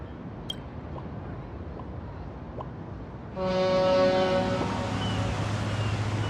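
Ship's horn sounding as a boat arrives in a video game, a deep, sustained harmonic blast that starts suddenly after quiet ambient ocean noise and holds steady.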